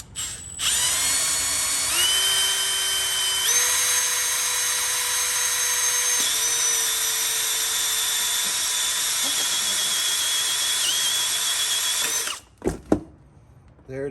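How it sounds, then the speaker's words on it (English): A power drill whines at high pitch while boring a hole through a car's oil pan, running steadily for about twelve seconds with stepped speed changes, then stopping with a few short clicks. "I drilled the oil pan, and the idea is I left the oil in there"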